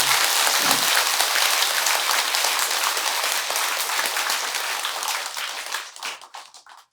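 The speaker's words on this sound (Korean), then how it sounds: "훌륭하신 선지식을 모셔와서 법회를 이끌어 주신 주지 스님한테 박수 한번 쳐주시기 바랍니다" A temple congregation at a Buddhist dharma service at Beomeosa claps for the abbot, a loud, dense, sustained round of applause that thins into scattered final claps and stops.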